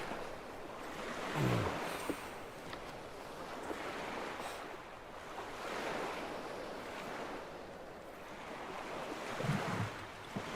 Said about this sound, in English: Tried to find water sounds like this last night to fall asleep to.